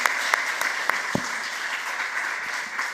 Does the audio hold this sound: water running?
no